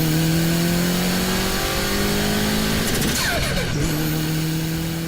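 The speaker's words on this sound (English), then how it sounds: "This is what a turbo sounds like as it spools up." A car's turbocharger spools up over a steady engine drone, with a rising whistle and a sharp shift-like break midway before the engine note settles again, loud and continuous with no talk.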